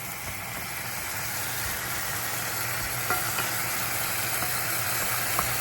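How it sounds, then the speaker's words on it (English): Pork belly sizzling steadily in a hot pan, a constant crackling hiss with a few faint pops, and a low hum running underneath. "You can hear it sizzling away now."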